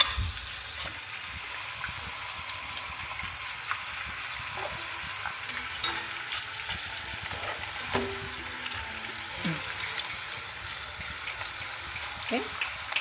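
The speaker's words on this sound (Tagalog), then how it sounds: "Prinito ko lang siya ng konti." Chicken browning in a pan gives a soft, steady sizzle and frying hiss, with occasional stirring clinks and a voice talking at times over it.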